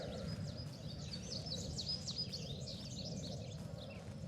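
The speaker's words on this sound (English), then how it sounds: "Yeah, little birds." Small birds chirp in quick, high, scattered tweets over a soft low ambient bed in the video game Journey of Life, fairly faint and without talk.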